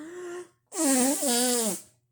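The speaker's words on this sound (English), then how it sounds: "I can blow my nose even more harder" A hard nose blow with a loud, breathy, honking rush of air lasting about a second, after a brief hum.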